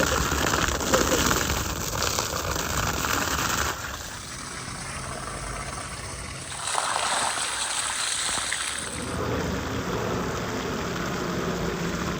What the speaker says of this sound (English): Let's give these chicken legs a good wash now.